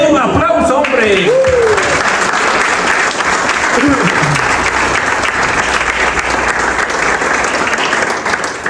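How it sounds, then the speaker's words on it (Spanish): A church congregation bursts into loud, steady applause that carries on evenly for about eight seconds, with a brief bit of speech at the very start. "Denle un aplauso, hombre."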